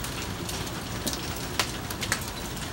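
Hail pelts down hard and steady during a storm, a dense continuous clatter with sharper individual ice strikes popping out near the listener, no voices over it.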